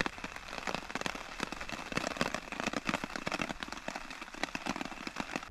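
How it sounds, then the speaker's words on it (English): Steady rain falls outdoors, a dense continuous patter with scattered sharper drops hitting a surface, fairly faint and even throughout with no voices. "the sky clouded over again, and it started raining"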